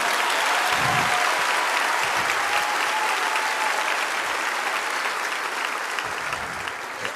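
A large audience at a church youth conference applauds loudly and continuously, a dense wash of many clapping hands that stays full for several seconds and eases only slightly toward the end.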